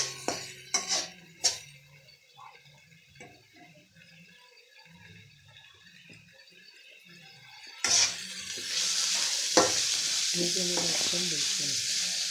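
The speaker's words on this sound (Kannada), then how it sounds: "ಇದನ್ನು ಕಂದು ಬಣ್ಣ ಬರೋವರೆಗೂ ಹುರಿತೀರಿ." Food frying in a pan until brown, with a utensil scraping and clinking against the pan in irregular bursts, then a loud steady sizzle that swells up close and keeps going.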